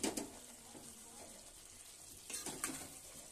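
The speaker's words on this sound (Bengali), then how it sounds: "আলুগুলো এবার ঢেলে দিচ্ছি আমি।" Fried potatoes are poured into a pan of chicken masala and set off a faint, steady sizzle. A few soft bursts of stirring and scraping come at the start and again near the end.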